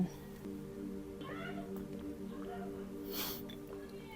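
A cat meows indoors, giving a few short, faint calls beneath a steady low background hum.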